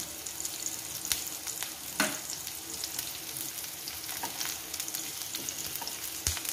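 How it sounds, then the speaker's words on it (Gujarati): Onion and two short green chillies frying in a pan of oil for desi paneer bhurji, a steady close sizzle broken by a few sharp crackles and stirring scrapes, with no talk. "હવે આપણે એમાં ડુંગળી નાખી દઈએ. એની અંદર આપણે 2 મરચાં નાખી દઈએ ટૂંકા."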